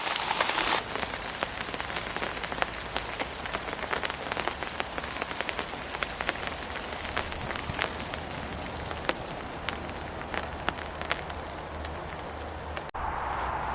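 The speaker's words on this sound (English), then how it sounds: "It's just started to rain again." Rain patters steadily on leaves and surfaces in a wet, windy UK forest, dense scattered drops with occasional louder taps close by, continuous and fairly soft.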